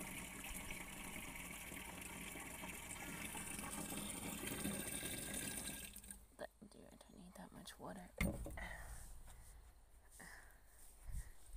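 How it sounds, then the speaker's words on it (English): Water splashes and gushes into an old bucket for about six seconds, fairly loud and continuous, then gives way to scattered knocks and clunks of the bucket being handled. "Here's the old bucket. Just gonna collect some water."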